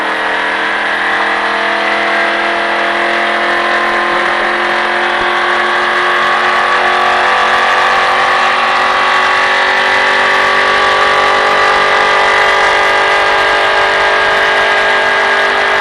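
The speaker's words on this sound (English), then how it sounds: "Go ahead and maintain, a little bit of gas. Give it some gas." A car engine holds a loud, steady rev under applied gas, its droning tone drifting slightly in pitch with no break for the whole stretch.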